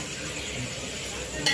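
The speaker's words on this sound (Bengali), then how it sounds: "পেঁয়াজটা আমার কত সুন্দর ভাজা ভাজা হয়ে গেছে।" Chopped onions with a little salt frying in a pan, a steady close sizzle with faint stirring and a brief clink of a utensil at the end.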